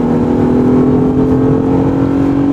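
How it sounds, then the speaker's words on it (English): A 2013 Lexus GS 350's engine sound generator fills the cabin during aggressive acceleration, a loud, steady droning engine tone with a strong low hum, heard from inside the car without talk. "when you accelerate in a more aggressive fashion, you'll hear the engine sound coming into the cockpit area"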